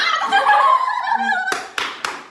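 A young person claps three sharp, close handclaps in quick succession indoors, right after a stretch of voiced laughter or chatter.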